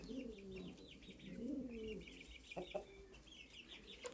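Chickens cluck and murmur close by, with soft cooing bird calls mixed in and a couple of sharper clucks near the end.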